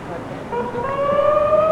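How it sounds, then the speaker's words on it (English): A siren sounds at Flemington racecourse on a 1990 race day, a steady wailing tone rising in pitch over distant background noise. "Siren's going."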